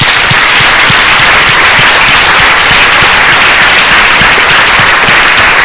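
A large audience at a Spanish-language religious gathering breaks into loud, sustained applause, dense clapping filling the whole stretch at close range with no voices above it.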